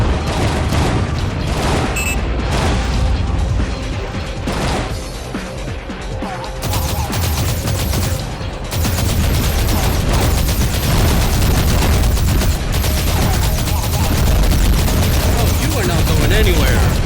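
Missile blasts and rapid gunfire in the underwater combat game Aquanox, a dense, loud, continuous barrage of explosions and shots with a brief dip midway before the roar resumes.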